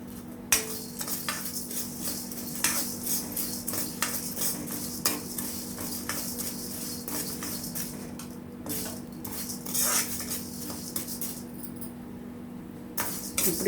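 Fenugreek seeds roasting in a pan with curry and drumstick leaves, stirred with a metal spoon: near, continuous rhythmic scraping and light clinking, with soft rustling and no talk.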